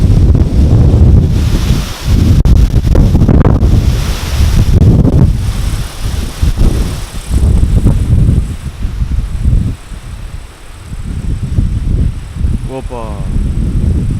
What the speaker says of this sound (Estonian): Nüüd tuleb kõva tuul.